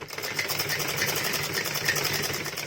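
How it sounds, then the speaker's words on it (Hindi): A sewing machine stitching the lining of a top, a fast, even mechanical whir of rapid needle strokes, close and steady, with no talk over it. "यहाँ एक एक फिनिशिंग के लिए सिलाई लग जाएगी"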